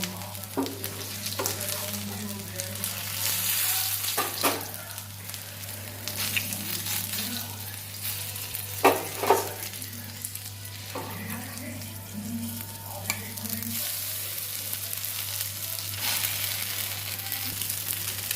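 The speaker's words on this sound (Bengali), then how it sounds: "এইভাবে একটা একটা করে আমি ভেজে নেব" Bread snacks fry one by one in hot oil with a constant bubbling sizzle, broken by occasional scraping and clattering from stirring or turning, close and moderately loud with no voices.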